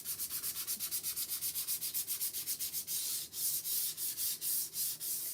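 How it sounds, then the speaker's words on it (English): Painted wood being lightly sanded by hand to give it a distressed, worn look, heard as close, rhythmic rubbing strokes in a steady back-and-forth pattern that speeds up slightly toward the end. "Just going to lightly sand. See, this is going to make it look worn too."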